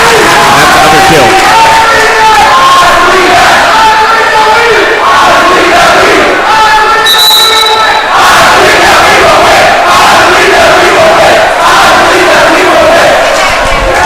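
A home crowd at a high school volleyball game, Kimball/White Lake Wildkats against Chamberlain Cubs, cheers and shouts loudly and continuously in a gym, with whistles and rising yells throughout.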